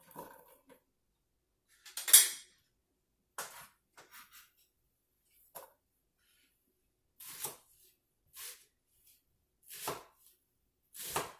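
Knife chopping on a cutting board in separate bursts of quick, crisp strikes with short pauses between them, close and fairly loud.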